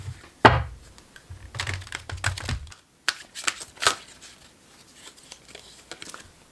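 Archangel Power Tarot cards are handled and shuffled at close range, giving quick bursts of crisp, rapid clicking and flicking, including one sharp snap early on, with pauses between flurries and no speech.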